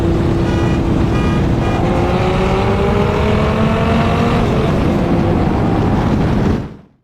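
A Dodge Viper GTS with an 8-liter V10 and upgraded exhaust accelerating hard in second gear from a 60 mph roll, a loud, close, rising engine roar that holds for several seconds, then cuts off abruptly.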